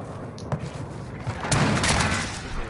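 Enemy gunfire in a first-person shooter erupts as a rapid fusillade of cracking shots, fairly quiet and slightly distant, rising into a denser burst midway with thumps in the background.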